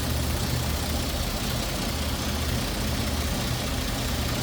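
A 194 cubic inch inline six-cylinder engine with a single carburetor in a 1932 Chevrolet Deluxe Coupe idles close by with a steady, even rumble, running continuously without any talking.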